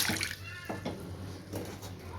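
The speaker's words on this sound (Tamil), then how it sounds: "இப்போ அதே கடையில் இன்னும் கொஞ்சம் தண்ணி வந்து சேர்த்துப்போம்" Water poured into a cooking pot while making sago sharbat, a faint, brief, splashy pour at low level.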